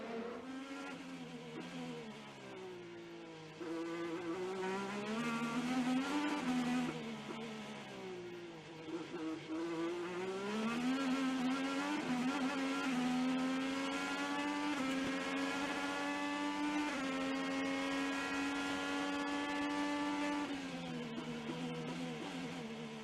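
IndyCar race cars scream past on track while battling into a corner, several engines overlapping with rising and falling pitch as they close up and pass, loud and continuous without talk.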